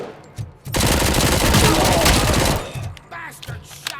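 Loud, sustained burst of automatic gunfire in RoboCop: Rogue City, a dense rattling roar lasting about two seconds, followed by scattered impacts and a voice speaking briefly.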